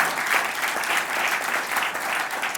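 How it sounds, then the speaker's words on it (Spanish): A church congregation applauds continuously, a dense wash of many hands clapping at moderate volume without pause from start to finish. "Dale un lindo aplauso a Cristo."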